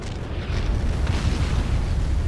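Battlefield explosions in Men of War Assault Squad 2, a heavy, continuous low booming and rumbling that swells after a quieter start and stays loud and dense throughout.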